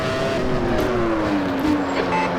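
A 1996 Formula 1 car sits on the Interlagos grid in a racing sim, its engine held at high revs with a loud, steady whine that sags slightly in pitch, alongside other cars' engine noise.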